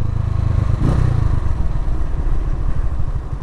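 Motorcycle engine rumbling loudly and close during a ride, a steady low chugging throb with a brief rev partway through.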